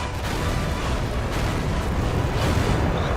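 Cannon fire from an FV201 (A45) tank in World of Tanks, heavy booming blasts that burst out of a dense, continuous roaring rumble, loud and close, with no voices.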